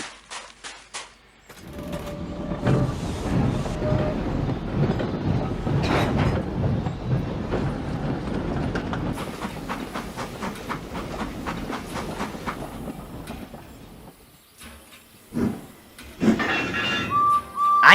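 Steam railway engines move a train of cars, a long rumbling roll with rhythmic wheel clatter and puffing that swells and fades, heard near and alone, ending in scattered knocks and hisses.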